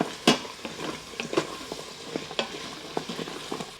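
Vegetables frying in two tablespoons of butter inside an Instant Pot, a soft steady sizzle broken by scraping stirs and a sharp utensil clack near the start.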